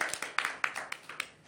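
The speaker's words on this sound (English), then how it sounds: "Please give applause for Toastmasters" Audience applause at a Toastmasters meeting, a short burst of fairly close hand clapping with several sharp individual claps rather than a dense roar.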